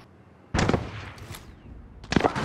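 Two close, sharp bursts of rapid gunfire in a Call of Duty Modern Warfare duos match, separated by a short lull with faint background rumble.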